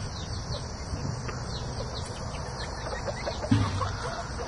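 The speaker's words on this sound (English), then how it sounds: "Little speckled Sussex pullet." A young speckled Sussex pullet gives soft, scattered clucks and chirps in a backyard setting, faint over a hissing outdoor background of insects, with one slightly louder low cluck near the end.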